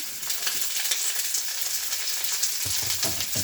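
Vegetables with celery and dried ginger stir-fry in a pan for an Asian-style dish, a steady loud sizzle and crackle throughout, with light stirring scrapes near the end.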